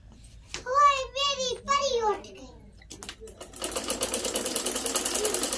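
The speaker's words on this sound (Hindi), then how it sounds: "जी मैं कर रही हूँ अब कपड़े सिलाई" Someone speaks for a few seconds in a village home, then a sewing machine starts stitching clothes, its rapid rhythmic whirring running steadily and moderately loud to the end.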